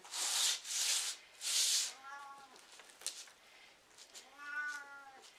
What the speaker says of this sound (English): my kitty's talking to me